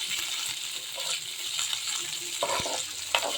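Spices for tomato bath temper in hot oil, a continuous bright sizzle close by with a few faint clinks and a soft knock near the end, no voices over it.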